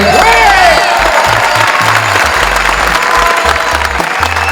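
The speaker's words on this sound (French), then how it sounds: "On applaudit Guillaume Cardinet, s'il vous plaît." A crowd applauds loudly and continuously at a cheese competition award ceremony, dense clapping with some cheering and whistles, close and filling the whole moment.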